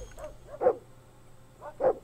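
A dog in the Drug Dealer Simulator video game barks twice, about a second apart, each a short clear woof over quiet background.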